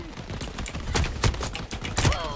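Shotgun blasts in the online shooter Shatterline, two or three sharp reports in quick succession with bursts of other gunfire and clatter around them, close and loud, with no talk.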